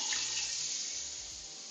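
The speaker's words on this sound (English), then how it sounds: "And then we put in some lukewarm water." Lukewarm tap water runs steadily from a faucet into a kitchen sink, a continuous close hiss and splash with no voices.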